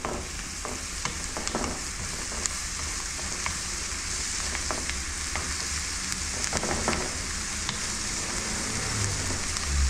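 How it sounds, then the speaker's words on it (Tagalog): Onion sautéing in olive oil in a pan: a steady close sizzle and hiss throughout, with occasional scraping and stirring clicks from a utensil, no talking. "Igisa natin guys itong onion muna."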